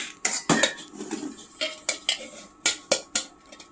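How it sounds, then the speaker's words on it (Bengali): Boiled egg being peeled at a breakfast table, giving a quick series of sharp clicks and taps of shell against a plate, irregular and close, with no speech. "আগে ডিমটা আমি ছাড়িয়ে নিই।"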